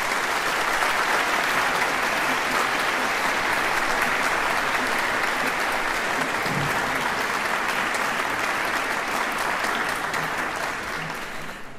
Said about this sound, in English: Let's give him the round of applause that he deserves.